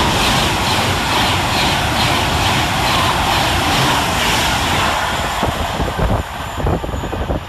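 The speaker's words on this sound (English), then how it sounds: "Passing the opposite direction is 390-154, working 1 Alpha 24 from Liverpool Lime Street to London Euston." A Class 390 electric train rushes through Nuneaton station on the Liverpool Lime Street to London Euston line, a loud sustained roar and rumble of passing carriages that eases slightly toward the end.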